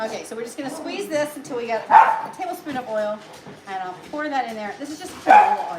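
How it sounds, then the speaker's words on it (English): A pet dog barks and yips repeatedly in a home kitchen while someone talks through an air fryer chicken wing recipe, the sharp barks cutting in over her continuous speech. "My apologies for my dog. He just is very noisy."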